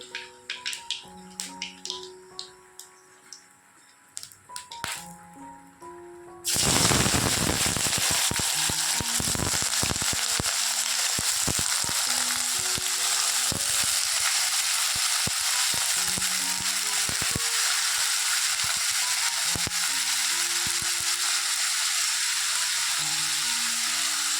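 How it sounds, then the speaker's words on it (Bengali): Sliced potato fry with black cumin seeds hits hot oil in a frying pan and bursts into a loud, steady sizzle that holds to the end, after a few seconds of quieter kitchen clatter. "এদিকে ভাজাটা বসিয়ে দেবো"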